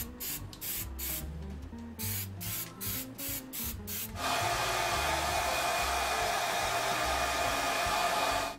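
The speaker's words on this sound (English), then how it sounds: "we can spray it with hairspray." Hairspray is sprayed from an aerosol can onto a painted prop, the masked Fatebringer kit, in a workshop. After several short puffs it turns into a long, steady, close hiss that lasts to the end.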